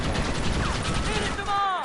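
Gunfire in the western video game Red Dead Redemption, a rapid burst of shots close up, overlapped by a voice shouting as the firing trails off.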